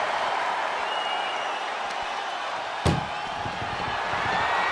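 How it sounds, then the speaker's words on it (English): In the wrestling video game WWE 2K24, an ambulance door slams shut with one sharp, loud bang over a steady roar of arena crowd noise. "Tossed into the ambulance. Shut the door."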